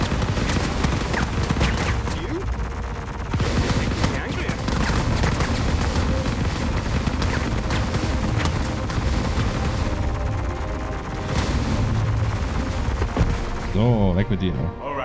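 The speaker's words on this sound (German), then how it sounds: "Ich schieße aber drauf, irgendwann ist es tot." Ship weapons fire continuously in the space game Star Citizen, with dense rapid shots and booms forming a loud steady barrage throughout, followed by a short warbling tone near the end.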